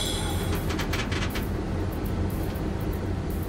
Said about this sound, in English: the train is picking up speed